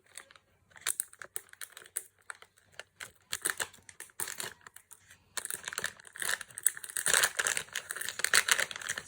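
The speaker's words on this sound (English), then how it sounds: "Sorry for the rustling" Crinkly plastic Dollar Tree blind bags being torn open and handled up close: dense, irregular rustling and crackling that grows busier and louder partway through, with no talking.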